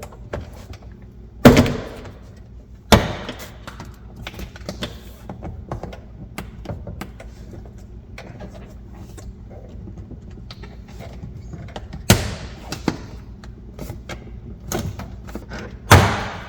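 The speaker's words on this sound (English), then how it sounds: "There are a series of clips that run along the edge of the door panel." Several sharp plastic snaps and pops ring out as Porsche 996/986 door panel clips are pulled off, spaced seconds apart, with quiet handling noise between them.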